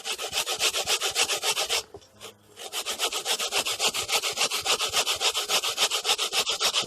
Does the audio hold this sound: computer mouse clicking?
no